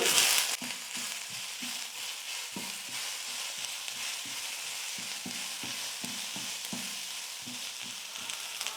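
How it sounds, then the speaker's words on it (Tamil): Grated coconut and tamarind sautéing in a pan, a steady soft sizzle with repeated scraping, stirring strokes of a spatula, close and alone. "தேங்காய் சேர்த்துட்டு 1 நிமிஷம் வதக்கினா போதும்."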